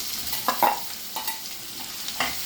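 Two large onions fry with curry leaves and green chillies in a pan, with a soft sizzle under a few distinct scraping stirs of a spatula, close and fairly quiet.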